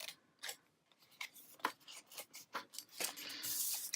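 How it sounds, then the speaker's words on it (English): Close, quiet scissor snips trim paper pieces at an angle for a twisted gift box, a series of short irregular crisp cuts and rustles, ending with a longer paper rub. "What I prefer to do is trim these pieces off, but do them at an angle as it fits in."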